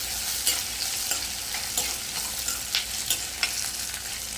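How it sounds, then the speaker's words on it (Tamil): Garlic frying with rock salt in a pan for a garlic-pepper kulambu, a dense continuous sizzle with repeated spatula scrapes and stirs at a close, steady level, no voices. "உப்பு போட்டால் சீக்கிரம் வதங்கணும், அதையும் போட்டு நல்லா வதக்கணும்"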